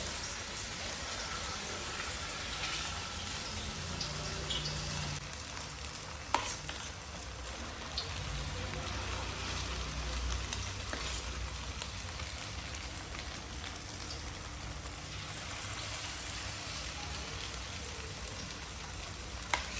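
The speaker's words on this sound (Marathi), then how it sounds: "तर चला आता तळून घ्यायचं चांगलं गरम झाले एक एक एक एक पीस असा टाकून घ्यायचं" Chicken 65 pieces fry in hot oil with a soft, continuous crackling sizzle, broken by a couple of brief knocks as pieces go into the pan and a slight shift in tone partway through.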